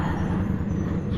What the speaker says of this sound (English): This truck scared the hell out of me